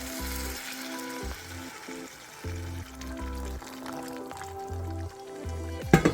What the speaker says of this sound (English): This is where we're going to add our water, which I had boiling off screen.